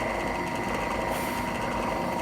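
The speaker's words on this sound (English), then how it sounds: "I have to drill very slowly to do what I'm doing here." A drill slowly bores a hole through a tobacco pipe stem, producing a steady, dense high-pitched whine that holds constant and fairly loud throughout.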